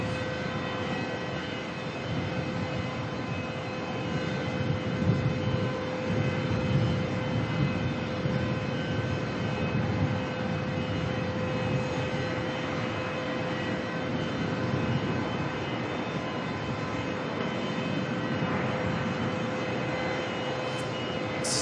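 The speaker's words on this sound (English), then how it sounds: "lining up to go out next on 3-4, we've got Virgin. This one's heading off to Canberra." Virgin Australia (Velocity 267) jet taking off on runway 34 at Melbourne, bound for Canberra: a steady, loud engine roar holding evenly throughout with a constant tonal whine running under it, no voices.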